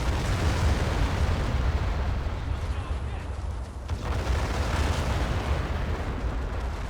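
Naval artillery shelling pounds an area in a Cold War 1975 mod of a war video game, producing a dense, continuous rumble of overlapping explosions and booms with no clear gaps between impacts.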